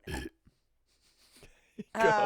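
A woman burps in bursts: a loud burp opens, a faint pop and a quiet low rumble follow, then a short burp and a long, loud burp to finish, with near silence between them.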